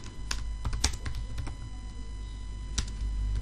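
Fingers type on a computer keyboard while writing a simple Python print statement, producing irregular clicky keystrokes in short bursts with pauses, fairly close and moderately quiet, with no talk.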